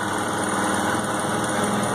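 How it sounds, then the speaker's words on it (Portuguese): A Next 250 motorcycle engine runs steadily at a constant high-pitched idle, close and loud, with no change in speed and no talking. "Estou testando essa moto aqui, ó."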